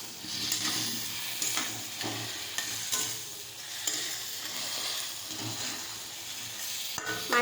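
Fish heads sauté in a spice masala for mung dal: a steady, close sizzle with the soft scrape and clatter of stirring against the pan.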